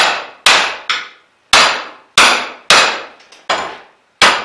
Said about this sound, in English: Then we'll take the hammer and we'll punch out cleats